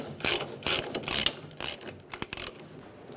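A ratchet wrench snugs down bolts on the fuel level sensor retaining strap of a 1999-2006 Chevrolet Silverado, giving several close bursts of rapid pawl clicking separated by short pauses, with no talk.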